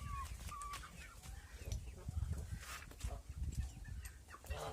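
Hens and young roosters cluck and chatter in a farmyard, with a busy mix of short calls and scratching rustles at moderate distance, and no voices.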